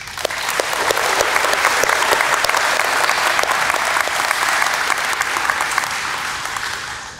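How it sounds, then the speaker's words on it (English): An audience at a school National Junior Honor Society induction ceremony claps in a sustained, dense round of applause that holds steady for several seconds before tapering off. "Please join me in thanking them with a round of applause."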